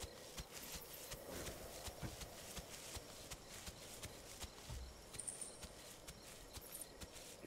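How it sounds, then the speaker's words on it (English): Footsteps from a creature in the dinosaur survival game The Isle thud in a steady, quick rhythm, heavy and hoof-like, moderately close over a faint rustling ambience. "It's actually our footsteps."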